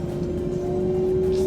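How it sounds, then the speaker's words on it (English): A BYD E6 electric car's motor whines under the rumble of the road, its steady tone rising slightly as the car picks up speed, close and continuous, with no talking. "just that sound that electric cars make, it's just lovely"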